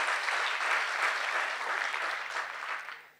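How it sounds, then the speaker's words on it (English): An audience applauds at a talk, a dense, steady clapping that holds strong and then tapers off toward the end. "I always feel strange when people applaud"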